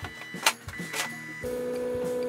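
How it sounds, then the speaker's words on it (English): Stepper motor on an Arduino-driven test jig, used for repairing a Newtonian telescope, running back and forth with a close, faint mechanical whir and a steady tone after a few clicks. "I've got an Arduino, which I've programmed with a little bit of code, which I just found on the internet, to run a stepper motor backwards and forwards"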